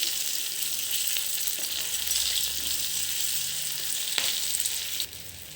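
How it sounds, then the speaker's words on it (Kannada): Masala stuffed green chillies frying on a low flame, a steady close crackling sizzle that holds evenly throughout with faint stirring clinks, then drops slightly at the end; no talking. "2 ಮಿನಿಟ್ಸು ಸಣ್ಣ ಉರಿಯಲ್ಲೇ ಫ್ರೈ ಮಾಡ್ಕೊಳ್ಳಿ"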